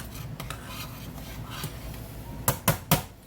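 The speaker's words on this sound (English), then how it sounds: "Give that rice a stir." A spoon stirs rice in a pot over a low, steady background, ending in three sharp, close metallic clanks against the pot.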